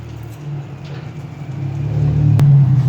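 Subaru car with a Russian Moscow plate at a race track, its engine idling in a steady low rumble that swells louder toward the end, with a brief sharp click near the close.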